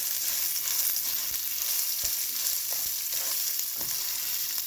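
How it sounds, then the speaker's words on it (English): Onions fry in oil as they are stirred, giving a dense, close sizzle with occasional soft scraping knocks of the spoon, continuous and without speech. "I'm going to add some onions to this. We're going to stir those all in."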